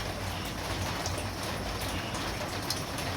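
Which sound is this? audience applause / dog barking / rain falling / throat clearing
rain falling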